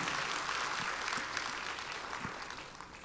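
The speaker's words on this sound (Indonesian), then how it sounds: "Kita kasih tepuk tangan yang meriah buat Tuhan." A congregation applauds during a church worship service, a steady wash of clapping heard fairly faint and distant throughout.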